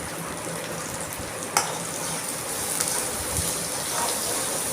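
Onions frying in a pan over a medium flame with salt and turmeric, giving a steady, close sizzle with faint stirring scrapes and no talk.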